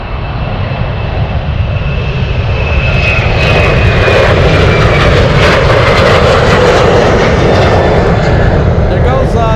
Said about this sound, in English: Is that a go-around? I think it is. C-17 remaining in the pattern.